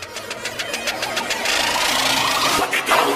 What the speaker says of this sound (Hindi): अभी हमारी कूलर की मोटर एकदम सही से काम कर रही है